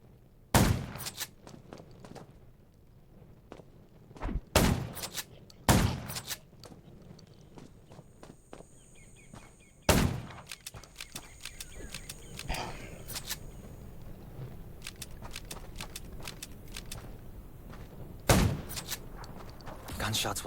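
Gunfire against zombies in the video game Undawn: sharp, loud single shots spaced irregularly across the clip over a low game ambience, with faint background sounds between bursts.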